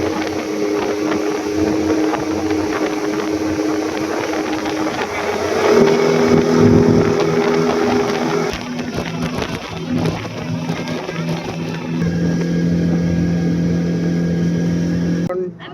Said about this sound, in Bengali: আর এখন বোটিং এর মধ্যে যাচ্ছি, স্পিড যাচ্ছে ভাই, সেই লেভেলের স্পিড যাচ্ছে।